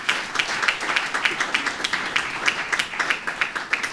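Steady audience applause at a College of Nursing matriculation ceremony for the college's principal officers: dense, continuous hand clapping from a crowd, moderately loud and even throughout, with no voices over it.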